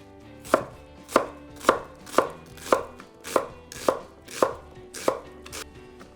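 Onion being chopped with a knife on a board: ten evenly spaced, crisp blade strikes about half a second apart, close and clear with no talking.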